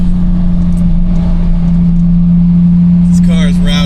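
A 2022 Porsche 911 GT3 engine running loud and close with a steady, heavy droning note, and someone talking over it near the end.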